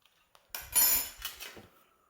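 A teaspoon rocking against a metal steelbook case to ease out a dent gives a quick cluster of small metallic clinks and taps, close and fairly quiet, with no voices.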